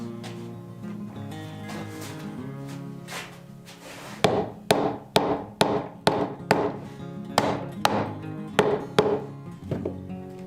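A wooden mallet strikes wood about a dozen times in a steady, evenly spaced series of sharp, close knocks after a quieter opening stretch.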